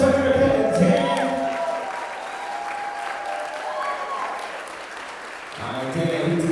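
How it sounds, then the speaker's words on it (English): A wedding reception crowd claps steadily for several seconds, the applause fading slightly before voices and clapping pick up again at the end. "big round of applause for Erica and Dan"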